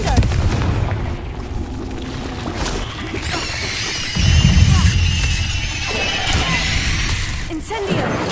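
Repeated Confringo blasting curse explosions in Hogwarts Legacy, a dense, loud barrage of booms and crashing impacts that runs continuously through the whole stretch amid game combat noise.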